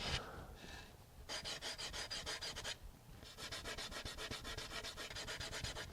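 Two cured caulking beads rubbed by hand, giving rhythmic scratchy rasping strokes in bursts with short pauses, close and clear with no talking.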